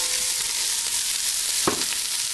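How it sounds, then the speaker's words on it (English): Vegetables for a chicken and sausage gumbo go into a hot pot with a loud, dense sizzle, a burst of scraping as they are dropped and shifted, no voices over it. "We're going to put all these veggies in the pot."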